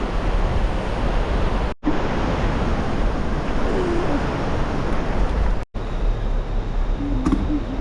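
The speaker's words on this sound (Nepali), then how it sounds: "कस्तो ठुलो खोला" A large river at Aarughat, Nepal, rushes past in a steady, broad roar of flowing water, loud and close, with two brief dropouts in the sound.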